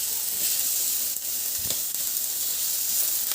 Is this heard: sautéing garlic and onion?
yes